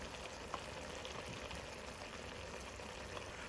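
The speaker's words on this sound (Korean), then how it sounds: "자, 맛있게 잘 졸여지고 있습니다" Burdock root simmering and reducing in soy sauce, a faint, steady bubbling hiss with a few soft pops and no talk.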